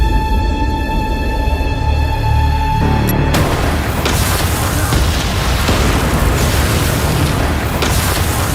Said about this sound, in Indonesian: sebuah penyerangan mendadak dan bom pun kemudian